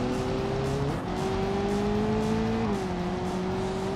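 Turbocharged inline engine car in BeamNG.drive accelerating hard at full throttle with the gearbox in sport mode, a loud, steady engine roar rising in pitch through two gear shifts with no talk over it.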